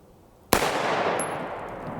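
A single sharp rifle shot of IMI M193 ammunition fired from a 10.5-inch barrel, sudden and loud after near silence, followed by a long rolling outdoor echo and a brief faint high tone.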